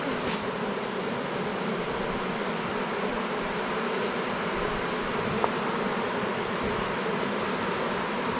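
Honeybees freshly shaken from the frames of a buzzing hive fill the air with a dense, steady drone that holds without pause, close and even throughout.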